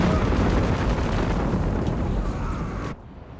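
Walking Stuka rocket barrage in Company of Heroes 3, a loud sustained rumble of overlapping explosions pounding for about three seconds before cutting off abruptly, with a voice speaking over it.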